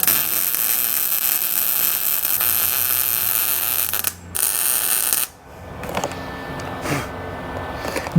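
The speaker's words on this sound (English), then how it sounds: "The heat rises, so I'm going to weld up." Wire feed welder laying a bead upward on a steel engine stand: a loud continuous crackling hiss for several seconds, a brief pause, then shorter sputtering bursts.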